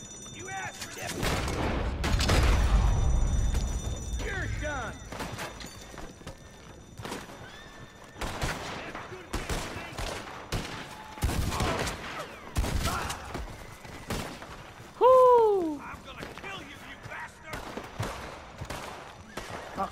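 Gunfire in Red Dead Redemption 2 gameplay, several sharp shots scattered among horse whinnies, clip-clopping hooves and game music, with a player talking over parts of it.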